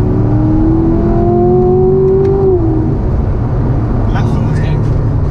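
From inside a Corvette C7 Grand Sport Collectors Edition with its stock exhaust, the engine note climbs smoothly under hard acceleration, then drops as it shifts, over steady road and wind noise.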